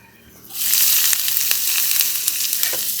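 Chopped onion and round chillies sizzle as they sauté in hot oil for a masala omelette, the frying starting abruptly about half a second in and then holding steady and loud, with a few light clicks over the hiss.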